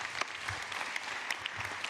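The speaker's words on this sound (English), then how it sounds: "That deserves a round of applause" Applause from an audience at a community conversation hosted by a city mayor, a steady patter of many hands clapping at moderate distance for a couple of seconds.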